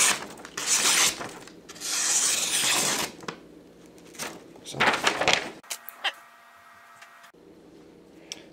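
An AEB-L steel utility knife slicing through printer paper, giving short rough rubbing, scraping strokes in bursts, close and fairly quiet, with quieter gaps between.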